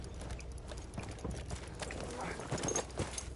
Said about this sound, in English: I like to ride my horse.